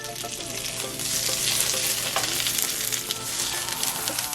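Bok choy and other vegetables sizzle and crackle steadily in a hot pan for rice, with occasional stirring scrapes and a low background hum, no voices.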